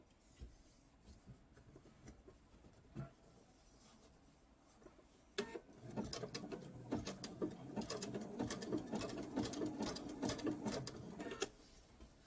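A sewing machine runs a zigzag stitch around a Bali bowl, its close, rapid mechanical chatter steady for several seconds after a few scattered clicks and taps.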